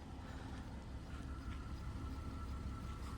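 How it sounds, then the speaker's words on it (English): A Cadillac STS engine idles steadily with a low, constant rumble and a faint hum, no pauses or revving across the short stretch. "Let's go listen to that engine."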